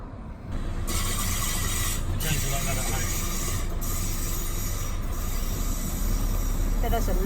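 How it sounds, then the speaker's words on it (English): Train rolling along a scenic railway through the Italian Dolomites, a loud continuous rumble of wheels on track with rhythmic clatter and occasional squeal, heard from inside at close range. "that's a lovely scenic railway journey"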